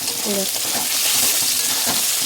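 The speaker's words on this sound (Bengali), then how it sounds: "সবগুলো আমি ভেজে নিচ্ছি" Spices and ginger crackle and sizzle in hot oil, a steady frying hiss with occasional stirring sounds, close up and fairly loud.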